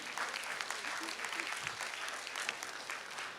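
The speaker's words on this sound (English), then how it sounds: "Give them a very big round of applause, guys, right?" Audience applause fills a public lecture hall, a steady dense clapping that holds evenly for the whole stretch at moderate level, with faint voices mixed underneath.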